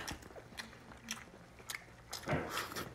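Someone bites into and chews a snack that is not very crispy, producing a series of soft, close crunches and chewing bites, with a louder burst of crunching near the end and no talking.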